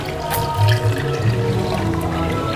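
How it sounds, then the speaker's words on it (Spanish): Water poured onto borojó fruit to make a juice with lime and ice, a steady close-up stream of liquid running for a couple of seconds with no talk over it. "Ponemos el agua al borojón."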